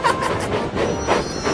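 Toy train carriages from a Thomas & Friends episode clatter along the track in a quick, steady clickety-clack rhythm, moderately loud for the full short stretch.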